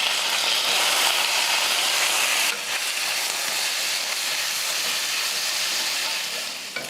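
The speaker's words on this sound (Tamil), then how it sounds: "கத்திரிக்காயை ஒரு 2 நிமிஷத்துக்கு இது போல் நான் நல்லா வதக்கினேன்" Eggplant cut lengthwise is sautéed in a pan with onions, giving a loud, close, continuous sizzling hiss that dips slightly partway through and then carries on steadily.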